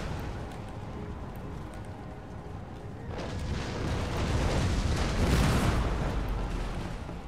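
Artillery in Empire: Total War pounds a section of wall in a dense barrage of booms and rumbling blasts that build sharply partway through and stay loud and continuous, with no voices.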